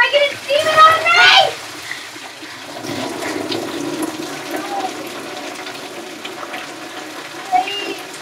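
Water gushes from a burst pipe in an upstairs apartment with a loud splashing burst at first, then settles into a steady rushing hiss, while voices are heard over it.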